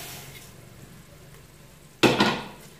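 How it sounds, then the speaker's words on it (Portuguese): Rice tips into a quietly frying pan with a sudden loud rattling pour, then a brief scrape and sizzle as it lands and gets stirred, after a low simmering hiss. "Eu agora coloco o arroz."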